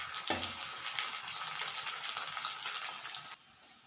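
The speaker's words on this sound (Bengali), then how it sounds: "তেলের মধ্যে দিয়ে দিয়েছি পেঁয়াজটা একটু ভেজে নিচ্ছি" Onions and sugar frying in hot oil in a pan for a pea ghugni curry, a soft, continuous sizzle with a brief louder burst near the start, fading out at the end.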